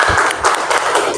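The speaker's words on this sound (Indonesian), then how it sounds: "Tepuk tangan untuk kita semua." A class breaks into loud, dense applause, a steady close patter of many hands clapping together with no let-up across the short stretch.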